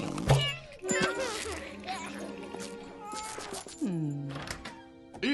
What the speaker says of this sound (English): stop tormenting that poor little kitty